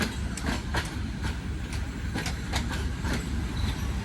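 The Hazara Express passenger train rolls past close by on the way to Karachi, a steady loud rumble with repeated clickety-clack wheel beats and brief metallic squeals throughout, no voices.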